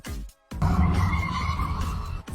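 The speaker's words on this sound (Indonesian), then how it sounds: "Lalu Miho mengemudikan mobilnya di jalan" In a monster film scene, car tires skid hard on the road, a loud, sustained screeching squeal that follows a short burst of engine noise and a brief silence.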